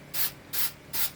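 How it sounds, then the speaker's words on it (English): Three short, evenly spaced bursts of quick-drying spray paint hiss from a can, each about a fifth of a second long, close and fairly loud, with no talking. "this spray paint, my son bought this, and it's just quick color, so it kind of dries really fast"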